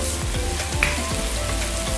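Spicy corned beef stir-fried in a hot pan gives a steady, close sizzle and crackle, with repeated scrapes and stirring sweeps against the pan every half second or so.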